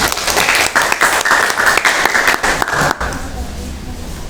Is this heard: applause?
yes